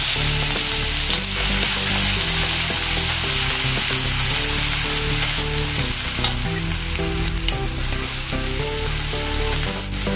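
Steady, loud sizzling of ginger, green chili and garlic paste frying in hot oil over medium heat, with occasional stirring clatter, continuous throughout.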